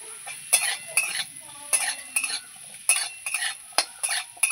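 Potatoes and chopped garlic stirred in a pan, a series of rhythmic scraping spatula strokes against the metal about twice a second over a soft sizzle, close and clear, with no talking.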